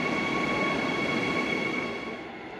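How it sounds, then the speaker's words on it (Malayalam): A regional train at a Berlin station gives off a steady, dense rumble with a high electric whine running through it. The sound stays close and loud, then eases off slightly at the end. "ഈ ട്രെയിനിലാണ് നമ്മൾ പോകുന്നത്."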